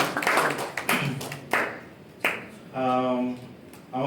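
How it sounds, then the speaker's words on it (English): A handful of sharp, scattered claps ring out from an audience after a presentation at a career development event in Kigali, sparse and uneven, with a brief voiced tone in between. "Please let us all give Pastor Adeyemi a round of applause for a wonderful presentation."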